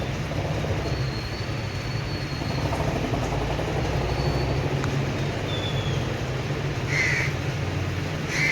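A crow caws repeatedly near a house doorway while feeding its two chicks, sharp calls rising over a steady rumbling background noise.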